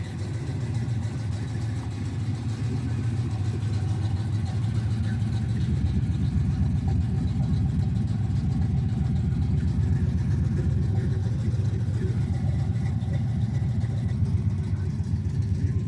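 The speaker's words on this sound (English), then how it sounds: "The idle's a little high, but she sounds good." An old car engine with no throttle cable runs at a slightly high idle, a steady low rumble that holds for the whole stretch with no change in pitch.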